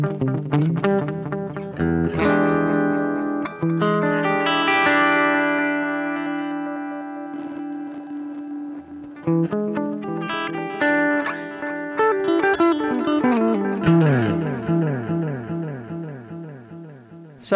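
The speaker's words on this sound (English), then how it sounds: "So you've got a really nice straightforward delay." Electric guitar through the delay setting of a Swiss Army multi-effects pedal, picked notes and chords ringing out with clear repeating echoes trailing behind each phrase, loud and close with no talk.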